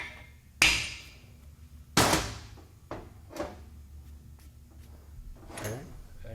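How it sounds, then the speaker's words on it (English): Hammer strikes driving parts into a 396 big block engine on a stand, a few sharp metallic hits spaced over several seconds with quieter knocks between, in a workshop with people talking. "hammering."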